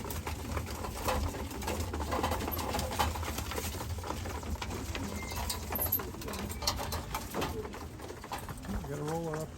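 Birmingham roller pigeons flying outdoors, with soft cooing and flapping mixed into a busy open-air background, while a person talks intermittently nearby.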